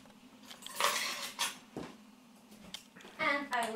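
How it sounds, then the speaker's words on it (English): Metal forks clink and rattle against dishes in a home kitchen during salad preparation, in a few quick bright bursts with a voice speaking between them. "Let me bring 2 forks."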